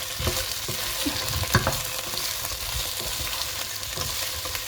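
Shallots frying in a pan for beef bourguignon, a steady close sizzle with scraping stir strokes and one sharper clack of the utensil, no voices.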